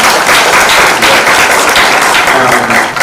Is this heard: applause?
yes